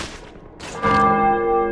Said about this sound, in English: Try hitting that bell.